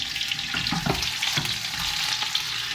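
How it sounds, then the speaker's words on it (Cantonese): Steady sizzling and crackling of steelhead trout pan-frying with scallion and ginger slices under a lid over low heat, close and continuous, with a few louder spits and no talking. "然後冚住佢嚟煎"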